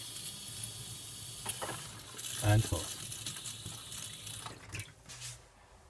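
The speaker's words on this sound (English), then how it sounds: "It starts pumping water through the taps." Water runs from the taps of an Auto-Sleeper Fairford Plus campervan, fed by a pump switched on by micro switches. The steady, moderately close hiss and splash continues while someone talks over it.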